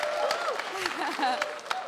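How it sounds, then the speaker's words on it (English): Audience clapping at a televised Ghanaian beauty pageant showcasing traditional wear, a steady patter of applause with voices and cheering mixed through it. "round of applause for yourselves."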